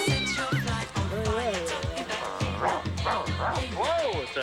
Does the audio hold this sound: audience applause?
no